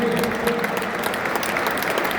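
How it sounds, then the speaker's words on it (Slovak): A stadium crowd applauds at the Tehelné pole football ground during a coach's farewell to the starting eleven, dense sustained clapping from a large distant audience without a break. "Za veľkého potlesku."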